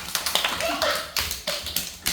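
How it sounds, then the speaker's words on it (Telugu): Children clap for Aditya in a small, uneven burst of quick hand claps with a few scattered beats, while an adult voice talks over them. "అందరూ ఆదిత్య క్లాప్స్ కొట్టండి పిల్లలు"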